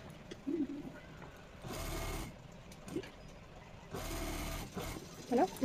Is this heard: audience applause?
no